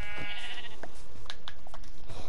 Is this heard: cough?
no